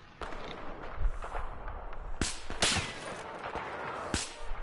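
Sharp sniper rifle shots crack out in Battlefield 4 amid a busy battle, with several loud, distinct reports and scattered gunfire over a constant din.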